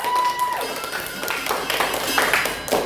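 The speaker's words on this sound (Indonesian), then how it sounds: "Wah, tepuk tangan." Junior high students in a gathering clap after a classmate introduces herself, a short, dense run of applause with chatter and voices mixed in throughout.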